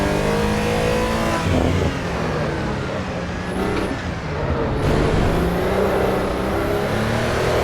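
Race car engine in the Assetto Corsa EVO racing game, chasing a Porsche on track: a loud, continuous engine roar that revs up and shifts through gears, with rising harmonic sweeps and brief dips between shifts, close and steady throughout.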